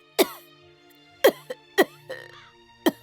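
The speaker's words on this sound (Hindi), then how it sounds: "इतना क्यों खांस रही हो?" A woman coughs in four sharp, separate bursts spaced over a few seconds, close and clear against a quiet background, with a faint breathy throat sound between them.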